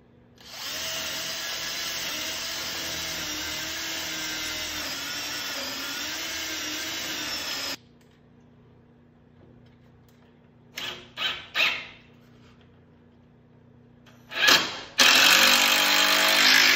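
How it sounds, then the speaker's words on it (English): A power drill whines steadily for several seconds while drilling wood on a sailboat's stem, stops, then short bursts of drilling follow before it starts up loudly again. "I'm gonna have to drill this out deeper than this."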